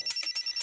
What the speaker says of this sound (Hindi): फोन आ रहा है। फोन आ गया